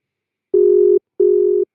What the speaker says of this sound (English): Oh, we have a ringtone.